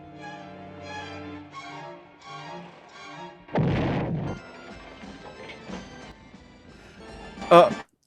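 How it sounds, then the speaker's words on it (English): A deep, muffled boom rumbles out briefly midway, set among quiet music, followed later by a short bright burst. "did you hear that explosion sound effect there?"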